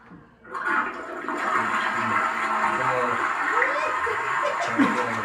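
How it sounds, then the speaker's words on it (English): A toilet flushes nearby with a loud gurgling rush of water that swirls and drains, while people talk over it. "Toilet flushing"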